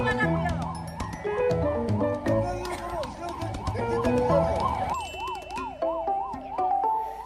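An ambulance siren wails in a continuous rising-and-falling pattern at a congested roundabout, mixed with music and a voice talking over it throughout.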